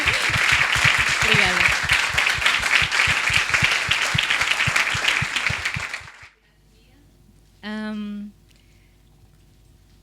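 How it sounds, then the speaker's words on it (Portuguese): Loud conference audience applause for a panel on accessible language, dense clapping for about six seconds before fading into near silence, then someone briefly speaks. "Um aplauso para este painel, se faz favor."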